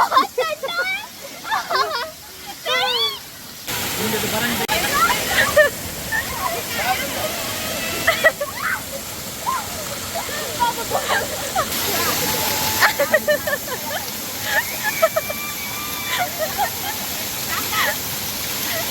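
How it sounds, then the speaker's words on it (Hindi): A small waterfall at a warm-water spot near Sringeri, Chikmagalur in Karnataka rushes and splashes steadily, with broadband water noise running throughout while people talk and call out over it. "ज़बरदस्त है वाटरफॉल"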